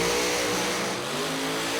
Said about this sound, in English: Here comes the other 53 Studebaker in the race out of Rome, Georgia.